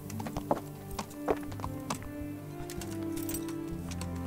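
Horse hooves clip-clop in the medieval video game Kingdom Come: Deliverance, a quiet run of close, uneven hoof knocks with a soft low hum beneath and no voices.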